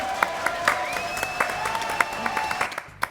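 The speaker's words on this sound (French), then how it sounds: "applaudissements." A television studio audience claps in a brief round of applause, with sharp individual claps over a steady background tone and a few voices in the room.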